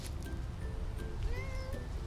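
A short, faint cat meow rises over a low, steady background hum, during a home yard sale.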